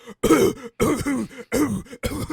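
Four loud, exaggerated coughs in a row, each a harsh rasping burst with brief gaps, close and prominent.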